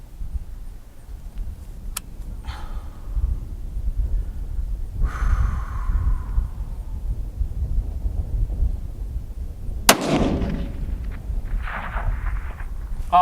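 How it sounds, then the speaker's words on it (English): A single cold-bore .308 Winchester rifle shot firing a Berger 168-grain VLD Hunter bullet at a target 650 yards away outdoors. One sharp report rings out and decays over steady wind rumble. "cold bore shot at 650"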